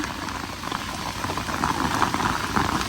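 Heavy rain pours down outdoors at a rural home where paddy was laid out to dry. It is a dense, continuous patter of drops on surfaces that swells slightly, with no talk over it.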